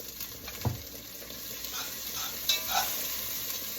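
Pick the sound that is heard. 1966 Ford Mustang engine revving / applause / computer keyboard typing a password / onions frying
onions frying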